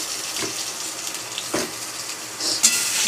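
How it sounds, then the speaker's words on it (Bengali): Pointed gourd (potol) frying in a pan, a continuous close sizzling hiss with a couple of soft stirring knocks and a brief louder spatter near the end, with no voices. "পটলগুলো লাল লাল করে ভেজে নিলাম।"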